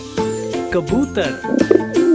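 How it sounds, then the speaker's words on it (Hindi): A pigeon coos in a few soft, rounded, throaty calls, close and clear, mixed with a voice in a children's alphabet rhyme. "कबूतर।"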